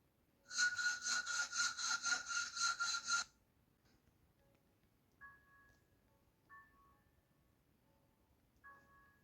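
Rhythmic sawing strokes from a saw cutting through something in the Stepmother video game, about ten quick back-and-forth rasps in a loud burst, followed by a few soft tonal game chimes.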